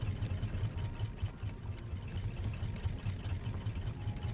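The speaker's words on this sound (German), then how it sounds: "Und hier auch nochmal Motor einschalten." A boat motor in the survival game Raft idles and runs steadily, a low rumbling engine with a regular chugging pulse and faint ticks, heard alone without talk.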